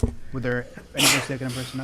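Sneeze during a school committee meeting, a single sharp burst of breath cutting through people talking nearby, with speech before and after it.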